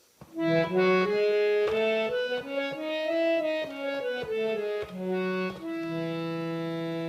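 Reedy harmonium tones run quickly up and back down a major scale, a clear sustained melody played alone with a held final note.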